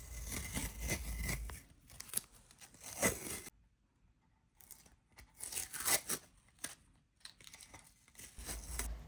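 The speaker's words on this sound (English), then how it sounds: "And then I removed the tape. This part is always so satisfying." Tape being peeled off a painted tin can, a quiet ripping and crinkling close by that comes in several short tearing bursts with brief pauses between them.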